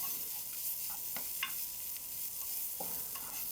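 Ginger and shallots sautéing in a pan as they are stirred, a steady soft sizzle with faint scraping stir strokes, close and alone with no voices.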